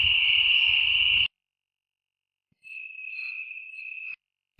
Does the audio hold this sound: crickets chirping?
yes